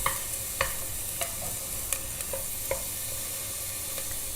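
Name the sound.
onion sauteing in a wok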